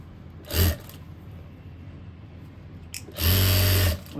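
A sewing machine stitches a folded fabric strip for a simple suit, heard as two close motor bursts, one short and one longer, over a quiet room.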